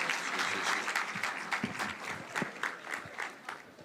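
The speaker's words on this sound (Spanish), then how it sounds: "un fuerte aplauso" A crowd at a school lecture event applauds to welcome an invited guest speaker, a dense patter of clapping heard from some distance that gradually thins out.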